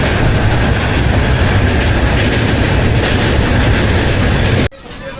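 Heard from on board, a passenger train runs on rails through Gujarat with a loud, dense, continuous rumble and wheel clatter. The noise drops off suddenly just before the end.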